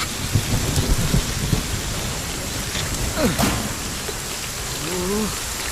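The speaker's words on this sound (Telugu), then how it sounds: "అయ్యో వాన వస్తుంది సార్." Heavy rain begins to pour with thunder, a steady broadband hiss of drops on surfaces close around, with brief voices heard faintly.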